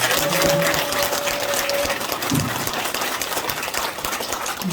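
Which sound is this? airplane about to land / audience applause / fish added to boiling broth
audience applause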